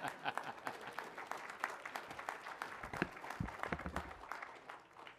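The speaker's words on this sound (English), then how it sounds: "Please clap." An audience at a county swearing-in ceremony for newly elected Maricopa County constables breaks into applause, a dense, steady patter of many hands clapping at a moderate distance with faint crowd murmur underneath.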